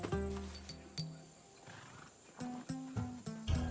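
The horse Phobos in the video game Assassin's Creed Odyssey neighs and whinnies in several short bursts, close and fairly loud, with a pause in the middle before more rapid calls.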